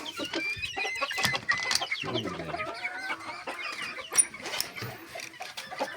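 Decorative chickens and chicks clucking nearby, a busy scatter of short clucks and peeps with one longer drawn-out call, irregular and close, no speech over it.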